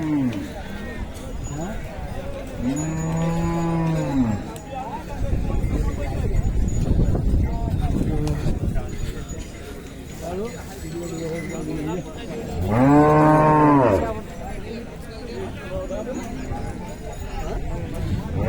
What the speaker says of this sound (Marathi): गायांचा बाजार आहे